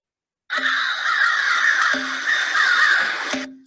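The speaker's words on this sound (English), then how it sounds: "this is like one of those crows that we heard earlier." A crow caws steadily for about three seconds, a harsh, raspy call with a few clicks, close and clear against silence.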